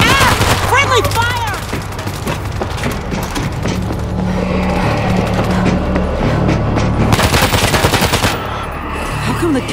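Loud, rapid bursts of gunfire crackle in World War Z as friendly fire rattles through repeated volleys among the zombie horde, with a voice shouting in between.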